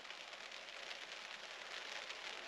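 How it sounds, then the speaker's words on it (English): Rain falls on a woodland wild camp in the UK, a steady, even hiss of drops on surfaces, close and continuous, with no voices. "the rain has arrived"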